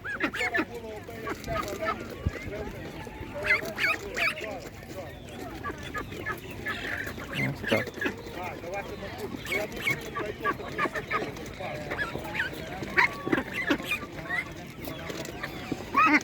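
Ducks and geese honk and quack at an outdoor animal market, with frequent overlapping calls close by amid market bustle while people talk.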